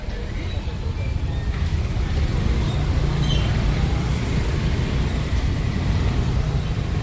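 A dumper truck passing on a road at night gives a constant, heavy low engine rumble with traffic noise through the whole stretch, and people talk faintly nearby.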